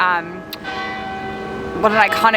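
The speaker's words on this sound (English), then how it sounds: "we're here to hear the bells toll. What a beautiful sound ringing through London" A church bell in central London rings out with a long, resonant hum that lingers and slowly fades, before a voice starts speaking near the end.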